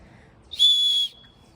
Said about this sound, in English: a lot of packs now are made with whistles built right in